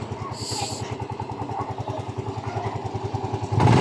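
A Yamaha Mio i 125 scooter engine with error codes 19 and 15 is started and idles close by, with a fast, steady putter and a brief high beep near the start before the revs pick up at the end.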